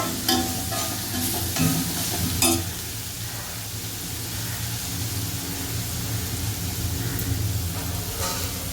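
Onions fry in a pan for chicken gravy with a loud, steady sizzle close by, while a spoon scrapes and stirs in bursts during the first few seconds.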